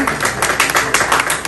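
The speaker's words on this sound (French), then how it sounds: "Je vous applaudissements, s'il vous plaît." An audience applauds at an official ceremony naming a new departmental director, with dense, loud, steady clapping from many hands.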